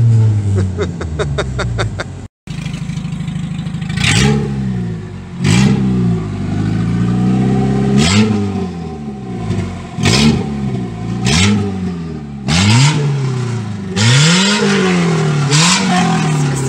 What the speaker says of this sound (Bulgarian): едва му чуваш моторчето